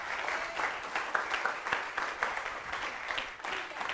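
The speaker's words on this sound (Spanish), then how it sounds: "Denle un aplauso al Rey, porque Él se lo merece." Church congregation applauding during a Spanish-language sermon, brisk scattered clapping filling the room, moderately loud, with faint voices underneath.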